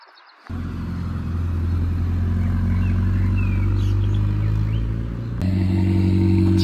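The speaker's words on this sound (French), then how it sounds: "Start-up de la 700S là." A 700S supercar fires up at a carspotting event in Gérardmer: after a moment of silence the engine catches sharply into a loud, steady, deep idle rumble, then swells again briefly toward the end.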